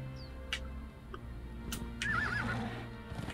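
A horse whinnies in the Conan Exiles game on the Isle of Siptah, a wavering neigh over a low ambient drone with a few hoof clops and clicks, no talk.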